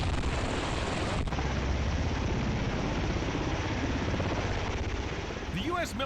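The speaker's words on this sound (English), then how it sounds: "Meet the V-22 Osprey tilt-rotor military aircraft" A V-22 Osprey tilt-rotor military aircraft gives off a loud, steady rotor and engine roar that fills the whole stretch without a break, with a sharp transient near the start and a faint chirping sweep toward the end.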